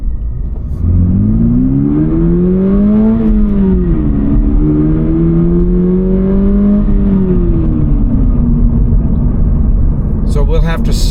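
A Toyota GR86 engine hums steadily while driving, climbing toward higher RPM, then easing and rising again over several seconds. The sound is loud and close, as heard from inside the car.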